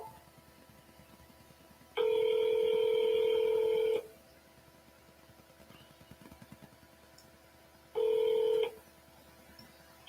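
Telephone keypad dialing tones, a loud steady two-second burst and a shorter one later, over a quiet room hum with faint background rustle during a real estate agent's sales calls to for-sale-by-owner sellers.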